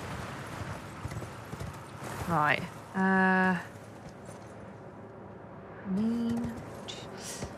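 Horse hooves in the video game Elden Ring clop quietly under a brief spoken remark, joined by a couple of loud, rising vocal-like sweeps and a steady tone.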